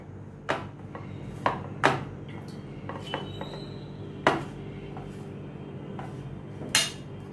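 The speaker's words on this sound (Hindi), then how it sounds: "अभी इनको मैं अच्छी तरह से मिक्स करती हूँ।" Potato snack ingredients mixed with masala in a large plate produce sparse clinks and knocks of a utensil against the metal plate, scattered irregular taps over a quiet background.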